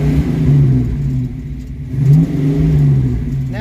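A Ford Mustang engine revs loudly and close by in rising and falling pulls, with a throaty mid-range drone that climbs, drops back, then surges again.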